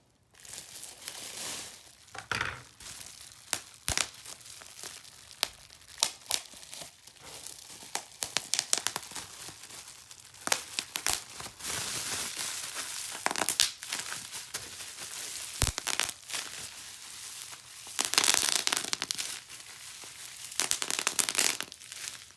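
Plastic packaging crinkles and tears close up as a cheap Wish LED digital wall clock is unboxed, a continuous crisp rustling that swells into louder crackling bursts at times.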